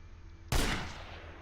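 A single sharp, loud sniper rifle shot in the Project Reality video game, with a sudden crack followed by a decaying rumbling tail over quiet background noise.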